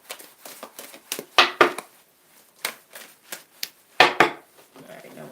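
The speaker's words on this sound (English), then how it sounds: "now we're shuffling" Tarot cards are shuffled in quick bursts of papery riffling and tapping, irregular clusters of crisp clicks with short pauses between, close and fairly clear.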